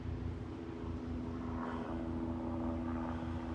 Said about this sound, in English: So we got a helicopter up here coming.